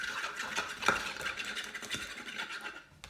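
A fork beats egg wash in a small dish, making a soft, quick scratching and tapping rhythm that stays faint and even throughout.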